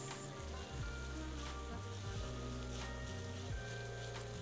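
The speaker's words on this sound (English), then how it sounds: "I'm just gonna stir that in until the onions start to soften." Onions cook in a pot with a steady, quiet sizzle and frying hiss, broken now and then by soft scraping as they are stirred. A low hum runs underneath.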